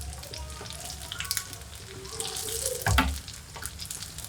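Sesame balloon dough frying in oil, a soft, steady sizzle with faint bubbling and a brief louder splash near the end, with no talking.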